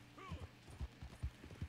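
Horse hooves clip-clopping at a steady walking rhythm in the Red Dead Online video game, with a brief whinny near the start, fairly quiet and without talk.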